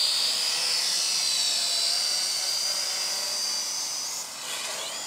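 A toy drone flies nearby in expert mode, its rotors giving a loud, high, steady whine that shifts slightly in pitch as it maneuvers and drops a little near the end, with no talk.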